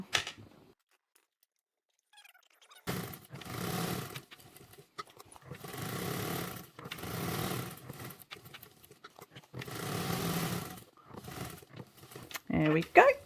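Sewing machine stitching a bag seam over a zipper, with bursts of motor-driven stitching in several runs separated by pauses, close and moderately loud, and a person talking quietly between the runs.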